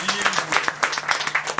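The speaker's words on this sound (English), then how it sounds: "Give applause to him." An audience at a spiritual lecture on the Sri Isopanisad claps briefly, with a quick run of sharp, close hand claps over a faint background voice.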